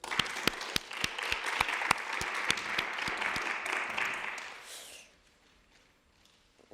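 An audience at a debate final applauds the departing duo, the dense, fairly close clapping with a few sharp individual claps holding steady for several seconds before dying away into near silence.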